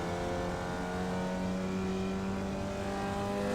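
A Formula Vee race car in iRacing at Oulton Park holds a steady, buzzing engine note at high revs, continuous and close with no talk over it.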